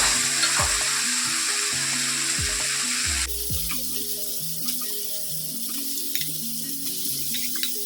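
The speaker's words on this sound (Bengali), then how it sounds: "এবার দেখো তেল ঝরে গেছে আমি এবার এর মধ্যে চিকেনটা দিয়ে দেবো" Chicken dropped into hot oil in a pan for mugh dal chicken, giving a loud, steady, close sizzle that shifts in tone partway through as the pieces settle and are stirred, with no voices.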